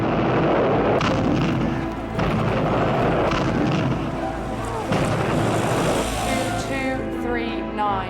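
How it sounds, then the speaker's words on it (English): Bombs fall on the RAF Martlesham airfield during a Battle of Britain air raid: a loud, dense roar of blasts and rumbling booms, heavy and continuous, with a droning, engine-like wash underneath. "The airfield at RAF Martlesham is bombed and put out of action."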